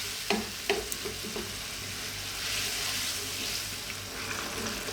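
Tomato masala for fish curry bubbling and sizzling in a pan, with a few sharp spoon clacks as it is stirred, followed by a steady, soft simmering hiss.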